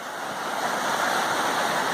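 A river flowing along the West Highland Way in the Scottish Highlands gives a steady, broad rushing wash of water, loud and unbroken throughout, with no voices over it.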